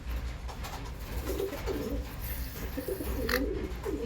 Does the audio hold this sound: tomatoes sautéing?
no